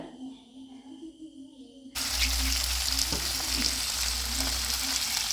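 Pieces of fish are laid into hot coconut oil, setting off a sudden loud, continuous sizzle and crackle that carries on steadily at close range.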